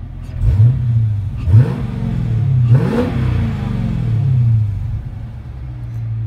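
The deep V8 engine of a 2015 Dodge Challenger R/T Scat Pack revs several times in quick bursts, each climbing and falling back to a heavy rumbling idle, loud and close.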